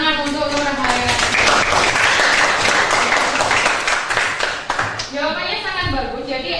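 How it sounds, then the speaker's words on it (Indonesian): Clapping for a participant named Nur Hayati during a teacher-training performance session, brief applause mixed with a voice talking over it throughout. "Tepuk tangan untuk Nur Hayati."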